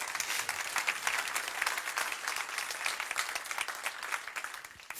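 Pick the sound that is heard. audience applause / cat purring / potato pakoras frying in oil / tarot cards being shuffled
audience applause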